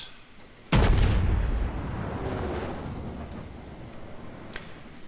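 A naval gun salvo of Mark 8 super heavy shells in World of Warships fires with one sudden deep boom, followed by a long rumbling roar that slowly fades over several seconds, with faint clicks afterward.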